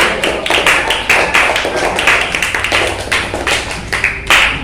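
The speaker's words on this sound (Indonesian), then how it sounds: "Terus tepuk tangan untuk semua kelompok ya," A classroom of children clapping together in a rapid, rhythmic burst of applause, loud and close, continuing steadily throughout without pause.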